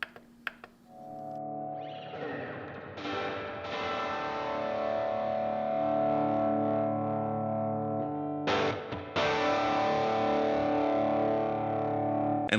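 Electric guitar played through a pedalboard with a 63-style spring reverb, sustained distorted chords ringing with a wet, washy tail, briefly cut twice before resuming, no voices over it.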